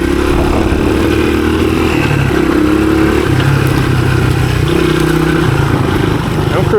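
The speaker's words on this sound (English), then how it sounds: "I'm cruising along in 4th gear right now, just whipping through the flowy stuff." A 1983 Honda XR200R dirt bike cruises in 4th gear along a wooded trail, its loud, steady single-cylinder drone rising and dipping slightly in pitch, with a voice talking over it throughout.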